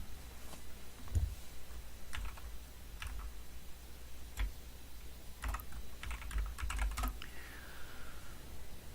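Keystrokes on a computer keyboard while text is entered in Notepad, coming in irregular bursts of clicks with short pauses between them, close up, over a low steady background hum and no speech.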